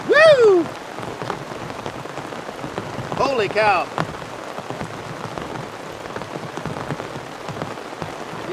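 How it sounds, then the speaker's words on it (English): A heavy rainstorm pours onto a canoe camping tarp by a wild river, a thick unbroken hiss of drops throughout, broken by a couple of short excited exclamations from a man. "I didn't think it was gonna rain like this"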